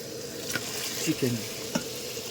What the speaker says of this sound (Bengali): চিকেনটাকে ভালো করে কষিয়ে নেবো। যতক্ষণ না তেল ছেড়ে আসছে ততক্ষণ একে কষাতেই থাকবো।